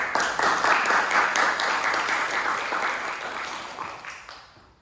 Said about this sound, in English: For applause, please.